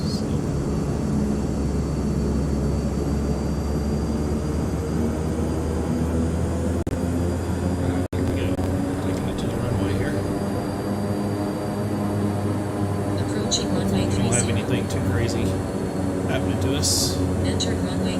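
Turboprop engines of a Beechcraft King Air hold a steady, loud drone with a low hum, running continuously before takeoff on a 3,400-foot runway at Glacier Park; no voices.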